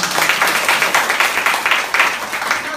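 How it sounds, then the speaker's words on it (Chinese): A live seminar audience in Tainan's Xinying claps together in quick, even rhythm, a close and lively burst of many hands lasting a few seconds without any talk over it. "为自己拍拍掌"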